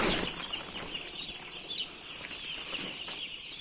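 Small broiler chicks on a small poultry farm cheep in a dense, constant high chorus close by, with occasional soft flutters and no talk.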